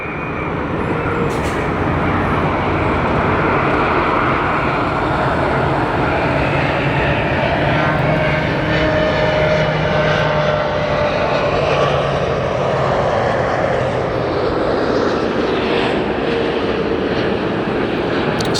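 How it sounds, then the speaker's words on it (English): Old Delta jet engines at LAX, a loud continuous roar that holds steady with a faint tonal whine, heard from nearby with no talking. "Some of the old schoolest sounding engines are on these aircraft here"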